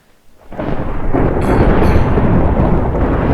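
Loud, sudden thunder in Minecraft on the Lord of the Craft server, bursting in after near silence and rolling on as a dense, sustained rumble with a sharp crackle early in the roll; no voices.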